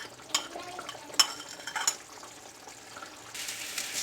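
Fried chicken and spice-mixed yogurt go into a karahi pan: a few sharp metal clinks and scrapes of stirring, then a soft rising sizzle, all fairly quiet with no talking.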